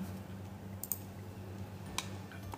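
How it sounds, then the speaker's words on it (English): Computer mouse clicks while working in Mastercam software: two faint, sharp ticks about a second apart over a low hum, with no talk. "I have to go and click on verify"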